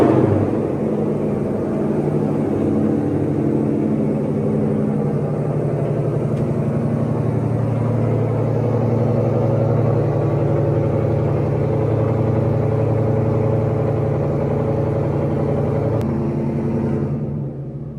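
An S550 Ford Mustang engine rumbles loudly at a high, steady idle after a cold start, a deep continuous drone that cuts off abruptly at the end.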